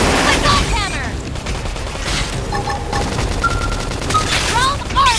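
Rapid gunfire in combat from the video game Xenoblade Chronicles X Definitive Edition, loud and continuous bursts layered with sweeping electronic effects and mechanical clanks, with faint voices mixed underneath.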